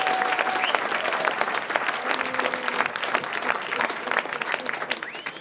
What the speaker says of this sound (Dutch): Mike, als eerste nogmaals een applaus voor deze fantastische band.